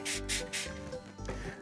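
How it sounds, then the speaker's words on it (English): Beef stock sprayed from a bottle onto smoked meat pulled off the smoker, three short bursts of hissing spray in quick succession, close up, with no talk. "I'm gonna spray it with a little more beef stock."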